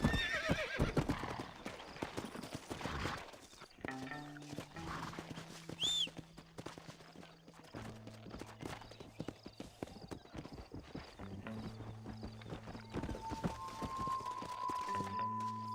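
Horse in the Red Dead video game trotting with steady clip-clop hoofbeats, breaking into a loud whinny partway through, while music plays underneath and the hooves continue throughout.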